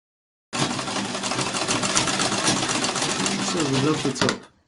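Sewing machine stitching a 1-inch side seam on a contoured blouse, running in one steady continuous burst of rapid needle chatter for about four seconds before stopping.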